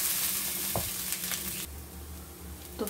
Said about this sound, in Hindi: अब इसे मैं कुछ देर हाई फ्लेम पर भूनूंगी ताकि चावल अच्छे से भून जाए।